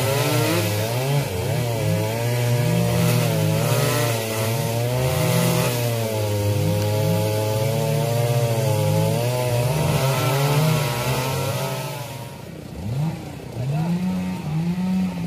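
Chainsaw cutting through the trunk of an old tamarind tree near its base, engine droning steadily with rising and falling revs throughout, loud and close, briefly dipping near the end.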